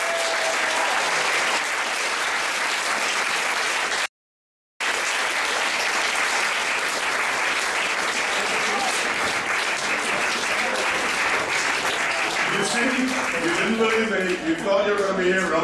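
Sustained audience applause after the verdict of a 2017 debate competition, loud and dense for the full length with a brief break early on, while voices start to talk over it near the end.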